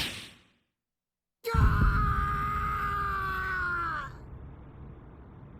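A man screams in pain in the Bleach Rebirth of Souls video game, after a short silence. The cry is loud and strained and holds steady for about three seconds before it breaks off into low background noise.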